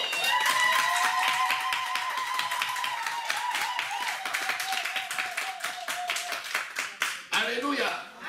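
A church congregation claps rhythmically and cheers for the Lord, steady close hand claps under raised, sustained voices calling out together.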